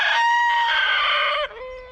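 A chicken on an off-grid homestead lets out a loud, close, drawn-out crowing call that drops in pitch near the end, a single sustained vocalization with no talking.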